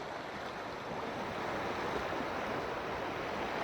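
Ocean waves surge and wash in a broad, steady roar, rising slightly partway through, with some wind buffeting mixed in and no voices.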